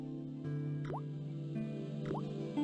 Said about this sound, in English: I shut off the faucet as tight as I could, but it kept on dripping.